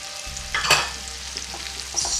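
Bean sprouts stir-fried in a pan for a keto Chinese stir fry, a steady sizzle under a clattering burst of stirring and tossing, close and fairly loud, with smaller scrapes following.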